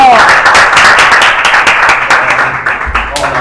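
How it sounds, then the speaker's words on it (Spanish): Studio audience applauding a guest singer and choreographer as he is welcomed on a Spanish-language cooking show set, a steady wash of clapping running the whole time with a host's voice over it. "¡Un aplauso!"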